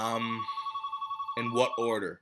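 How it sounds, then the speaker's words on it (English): A phone rings with a steady repeating electronic tone, fairly loud and close, while someone talks over the start and end of it. "That's my phone that's ringing."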